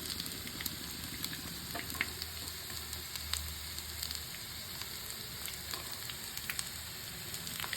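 Chicken keema sticks frying in oil, a steady soft sizzle with faint crackles and pops throughout, fairly quiet and even, with no voices.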